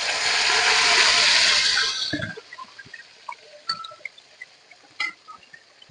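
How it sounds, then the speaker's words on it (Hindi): Okra dropping into hot oil in a kadai gives a loud burst of sizzling for about two seconds, then it eases into quieter crackling with scattered pops and clinks. "अब अच्छी तरह ऑयल में भिंडी को फ्राई करेंगे।"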